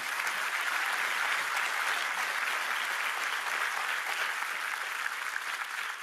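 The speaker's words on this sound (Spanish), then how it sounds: "demos un aplauso al Señor." Steady, sustained applause from a church congregation during a sermon, a dense unbroken wash of clapping lasting several seconds with no voices over it.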